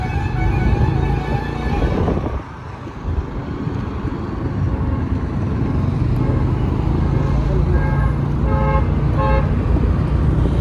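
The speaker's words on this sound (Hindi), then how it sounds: "जमशेदपुर में भी बहुत ट्रैफिक है." Car horns honking in busy Jamshedpur street traffic, a steady roar of engines and passing vehicles with repeated horn toots, louder bursts near the end, close and continuous.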